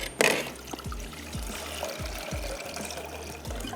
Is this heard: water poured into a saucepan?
yes